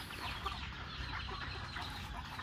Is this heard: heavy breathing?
no